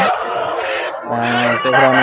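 A rooster crows loudly and close at a rooster market in Vijayawada, a harmonic call rising in the second half over a busy, noisy background.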